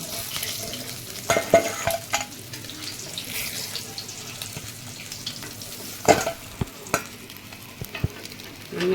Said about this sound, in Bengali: আমি দুটো দুটো করে ভাগে ভাগে ভেজে নেব এই মাছের মাথাগুলো